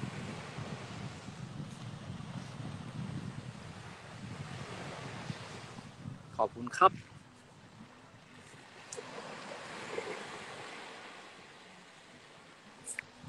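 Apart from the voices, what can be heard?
sea waves at the beach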